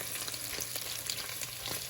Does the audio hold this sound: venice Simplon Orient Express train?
no